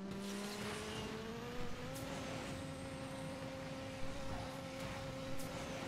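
Lamborghini Aventador SV Coupe racing in Asphalt 9 Legends, a steady loud high-revving engine drone that climbs in pitch, with occasional tire squeals and whooshes layered over dense game audio, no talking.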